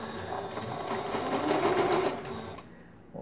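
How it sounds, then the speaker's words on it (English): A sewing machine stitches a straight seam, a steady close mechanical whir with fast rhythmic needle ticks that runs for a few seconds before stopping, with no talk over it. "We're just going to sew it straight down."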